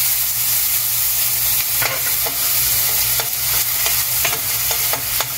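Onion and green chilli pieces stir-fry for veg Manchurian, a steady loud sizzle with scraping spatula strokes landing irregularly across the frying hiss.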